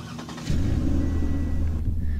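A turbocharged car engine in the Roblox game Southwest Florida cranks and catches after half a second, then settles into a loud, rumbling idle, close and alone.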